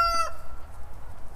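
A bantam rooster on a farm lets out a short, loud, close crow at the start, its harmonic call ending quickly and leaving faint outdoor background.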